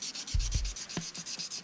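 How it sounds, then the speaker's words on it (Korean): Sandpaper rubs back and forth over a dried edge coat on a leather edge, making quick repeated scratchy strokes that are close and steady, with no talk. "이 상태를 매끈하게 사포로 갈아주셔야 돼요."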